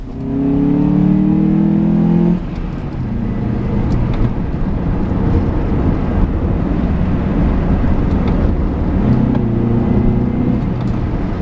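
A 2003 Honda Accord EX-L with a 4-cylinder engine and 5-speed manual accelerates hard, engine note climbing steadily, dropping briefly at a gear change, then rising again, loud and close throughout.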